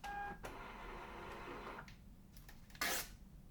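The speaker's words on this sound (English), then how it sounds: "Choose my label printer." A label printer printing a shipping label for an antiques parcel gives a mechanical whirring feed with a short clicking motor sound near the end, close and fairly quiet, with no talking.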